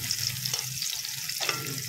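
Garlic and onion fry in a pan with a close, continuous sizzle and hiss, louder crackling swells rising and falling throughout, no voices.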